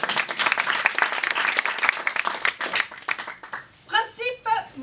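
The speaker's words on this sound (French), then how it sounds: "on peut l'applaudir" Loud audience applause and clapping fills most of the stretch, then fades out as a voice begins speaking near the end.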